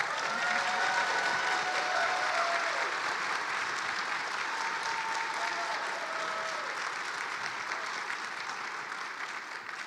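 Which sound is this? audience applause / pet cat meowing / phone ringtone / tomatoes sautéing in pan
audience applause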